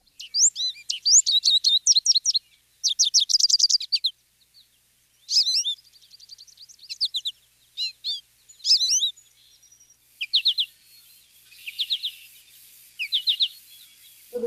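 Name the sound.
American goldfinch song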